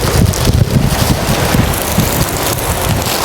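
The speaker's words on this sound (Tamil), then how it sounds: "அது காத்துக்கு பறக்க போகுது." Wind gusts through a forest during outdoor village cooking, a loud, rough rumble that swells and eases in uneven bursts and buffets the microphone, with no talking.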